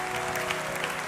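A church congregation claps together in a brief, dense burst of applause during a French-language worship service, steady and moderately loud with no voices standing out.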